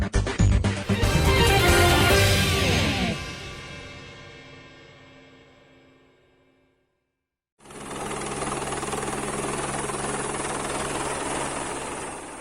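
An Airbus helicopter's engine and rotor roar loudly at first, then fade away to near silence, before a steady, loud mechanical drone resumes and holds to the end.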